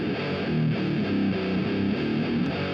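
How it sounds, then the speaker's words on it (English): Distorted doom metal guitar solo fed through a long echo effect on an aux send from a mixing console, sustained notes smearing into continuous repeats that hold at a steady loud level throughout. "That's a long echo."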